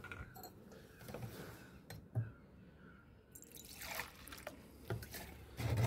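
Engine oil is poured from a glass into a Pulsar 150 DTSi, giving a soft, close trickle and dribble with a few faint knocks.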